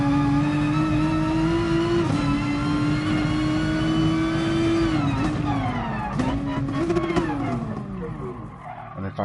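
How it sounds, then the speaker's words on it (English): A Nissan GT-R NISMO GR3 race car in Gran Turismo Sport holds a loud, steady high engine note, then drops pitch sharply through downshifts around the middle and end. Tire squeal and a faint voice sit underneath. "That downshift didn't sound right"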